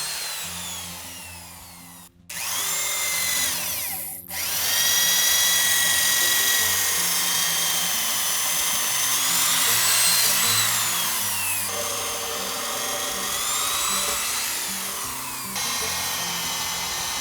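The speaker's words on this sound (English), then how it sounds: "I prefer to drill all the holes in one go." A power drill with a 22mm auger bit bores anchor bolt holes through hinoki cypress sills on a new house build, whining loudly and continuously with shifting pitch as it bites into the wood, cutting out briefly twice before running on.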